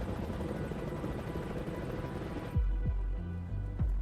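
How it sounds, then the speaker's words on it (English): A helicopter flying on a snap-and-fly heli-logging job in timber country, its rotor chop steady and loud, then thumping more sharply and closer toward the end. "Snap and fly heli logging."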